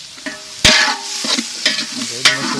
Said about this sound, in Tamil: வெங்காயம் பார்த்தீங்கன்னா லைட்டாக வதங்கினாலே போதும்